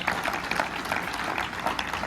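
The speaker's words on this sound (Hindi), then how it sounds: "तालियां बजाकर इसका हौसला बढ़ाएं" Audience applause at a youth motivation programme on drug abuse at an industrial training institute, a steady dense patter of many hands clapping throughout, moderately loud and continuous.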